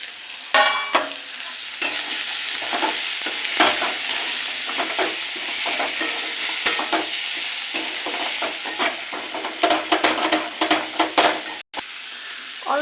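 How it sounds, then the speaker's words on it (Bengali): Chopped tomato fries with cumin, chili and coriander powders in an oil-filled pan for a Bombay duck curry. A steady sizzle runs throughout, broken by repeated scraping stirs of a spatula, with no talking. "দিয়ে দেবো টমেটো কুচিটা দিয়ে দেবো"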